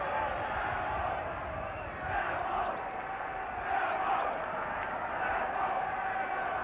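Football crowd at a Millwall match roaring and chanting steadily throughout, a dense continuous wash of voices with swells, heard under a commentator's voice.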